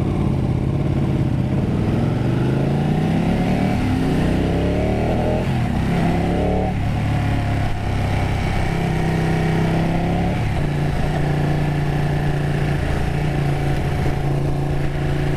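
A Ducati 959 Panigale motorcycle engine runs steadily and loud at close range, its deep hum shifting pitch as the revs rise and fall, with no talk over it.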